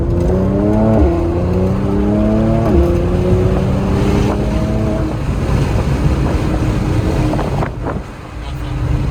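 A car engine pulls hard in third gear at around 40 mph, its rising drone stepping up in pitch in several pulls over road and wind noise, with a person talking faintly underneath.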